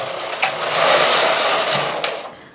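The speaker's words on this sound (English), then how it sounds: "So bringing 9 needles forward, knit 1 row from right to left" A domestic knitting machine carriage sweeps one row from right to left across nine needles, giving a steady close rasping whir that swells and fades over a couple of seconds, with a small click at each end.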